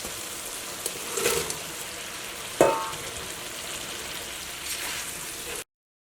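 Fried fish dropped into a boiling Kerala fish pickle mixture gives a steady sizzling bubble, with a louder splash and crackle midway before it cuts off.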